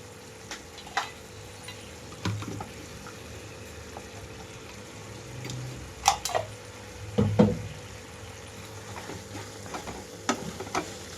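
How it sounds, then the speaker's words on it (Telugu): Chicken pieces fry in a pan with a steady sizzle, while a utensil stirs and scrapes at irregular moments, close and moderately loud. "ముక్కంతా ఫ్రై అయిపోయినట్టు తెలుస్తుంది కదా"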